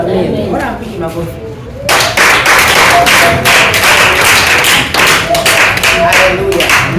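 Church congregation at an Easter seminar in Tanga bursts into loud, sustained hand clapping after a quieter opening, with dense rapid claps filling the room and some voices mixed in.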